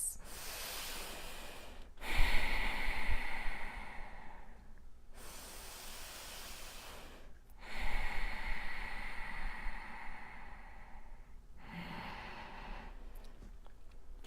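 Slow, deep breaths during a calm meditation, each long airy inhale or exhale lasting several seconds, repeated in a steady cycle, close to the microphone with no talking.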